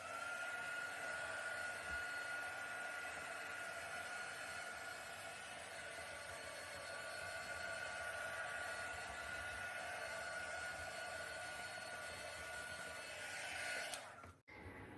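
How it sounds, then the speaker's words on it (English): A heat gun blows over acrylic paint in a steady, loud hiss that stays constant for about fourteen seconds and then cuts off abruptly near the end. "Let me just hit this quickly with another heat gun."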